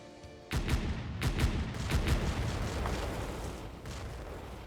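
A mortar bombardment area attack in Kriegsfront Tactics, a turn-based war game: a rapid series of heavy booming impacts, around eight blasts close together, loud and rumbling, followed by a lingering low roar.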